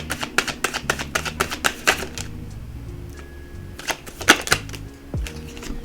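Tarot cards are riffled and snapped in quick, crisp bursts close to the microphone, with a pause in the middle before another flurry of sharp shuffling clicks.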